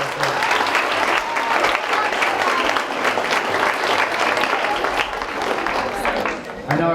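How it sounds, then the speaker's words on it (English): Parents and students at a high school fall sports banquet give loud, sustained applause for a volunteer volleyball coach, a thick, even roar of many hands clapping throughout. "So nice round of applause for him"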